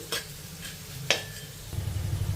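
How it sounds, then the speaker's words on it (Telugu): Mustard seeds, urad dal and chana dal sizzle in hot oil for a tempering, a steady close frying hiss broken by a few sharp clinks of stirring. "ఇప్పుడు ఈ పోపు దినుసుల్ని వేగనివ్వాలి"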